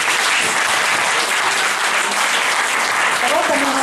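A live audience at a singers' show applauds steadily and loudly throughout, a dense wash of clapping with faint crowd murmur underneath.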